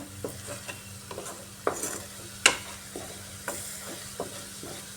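Bengali masala for a pointed gourd dish frying in oil in a pan, sizzling steadily while a spoon stirs and scrapes in short, irregular strokes, with a few sharper clinks; no voices.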